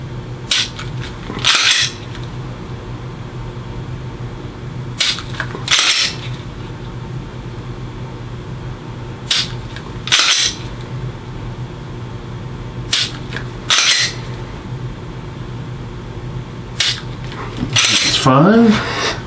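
Pistol dry fire during a five-shot MantisX training round, five sharp isolated clicks spaced a few seconds apart over a low steady background hum, close and fairly crisp.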